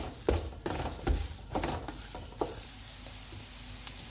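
Carrot halwa with butter stirred and fried in a pan, a soft sizzle under irregular scraping strokes of a spoon, with a few louder knocks early on that fade into a steadier low frying hiss.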